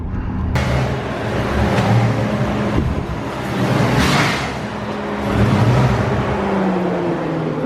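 A supercharged, five-speed-swapped Ford Crown Victoria heard from inside while driving, its broad engine and road roar swelling and easing in waves as it accelerates and shifts.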